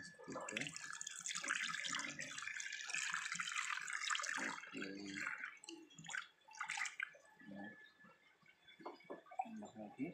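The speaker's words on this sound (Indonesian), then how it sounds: "Kita berikan lagi, kita siram ya, seperti itu." Water pours from a watering can or container onto a potted lotus, a steady close splashing stream that breaks into drips and gurgles toward the end.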